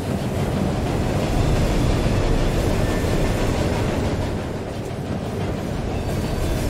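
Train in Murdered: Soul Suspect, a continuous loud rumbling roar of rolling wagons with a steady rattling texture, slightly easing near the end.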